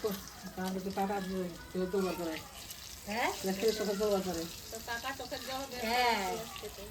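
Brinjal (eggplant) slices frying in a pan give a soft, steady sizzle that sits mostly beneath nearby conversation, with voices talking over it for almost the whole stretch.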